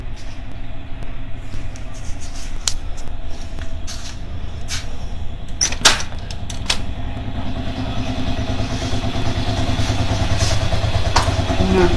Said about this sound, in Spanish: esa es una de las motos que tengo para trabajar.